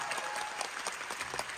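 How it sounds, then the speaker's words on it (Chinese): Theatre audience applauding for the backstage crew during a curtain call, a steady dense wash of clapping throughout with no speech. "还有我想要借各位的掌声，把它献给我们所有要完成这出戏的幕后工作人员"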